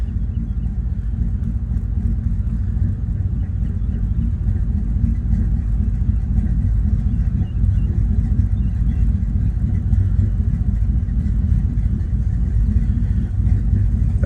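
A Chevrolet Silverado with a ghost cam tune idles close by, a loud, steady low rumble with an uneven, lopey, choppy pulse running through the whole stretch.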